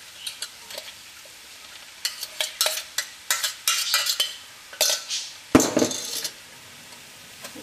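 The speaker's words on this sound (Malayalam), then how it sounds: "നമ്മുടെ മുട്ടയും ചിക്കനൊക്കെ നന്നായിട്ട് മിക്സ് ആയിട്ടുണ്ട്" A spoon or spatula stirs egg and cooked chicken together in a pan for chicken kothu chapathi, giving irregular clinks and scrapes with a soft sizzle underneath, close and moderately loud, with no talking.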